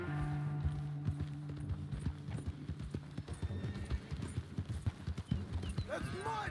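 Horse hooves clip-clop at a gallop in the Red Dead Redemption 2 video game, a steady run of close, loud hoofbeats with a brief whinny, heard beneath someone talking throughout.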